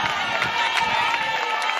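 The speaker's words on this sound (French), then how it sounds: "Chants, acclamations lui ont été réservés" A crowd at a political gathering chanting and cheering, a steady loud wash of many voices with scattered shouts and some clapping, sustained throughout.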